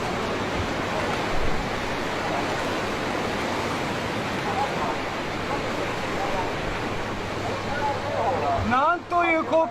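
Continuous roaring rush of flood water pouring through a town after a dam break, loud and broadband like heavy surf, before easing as a voice begins speaking at the end.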